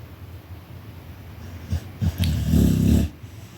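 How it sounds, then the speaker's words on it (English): A sleeping dog gives a few short snorts followed by a longer rough snuffling breath, close by in a quiet room. "And if you heard my dog, yeah, she snorted."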